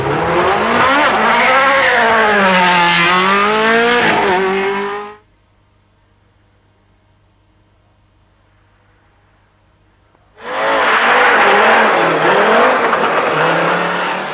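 Two Formula 1 race cars scream past one after another, each a loud rising-then-falling engine whine, separated by a few seconds of near silence.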